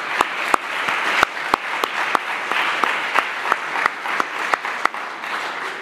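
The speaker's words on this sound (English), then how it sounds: "he really earns an additional applause again for doing that" Applause from a conference audience at the closing session of an AutoML event, a steady wash of claps with a few sharp, distinct handclaps standing out near the microphone, continuing for about six seconds.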